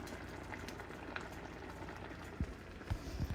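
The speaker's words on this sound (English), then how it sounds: "it's bubbling away because I'm impatient" Lemony risotto with peas bubbles in a pan, giving a soft, steady simmer with a few louder pops toward the end, heard faintly and on its own.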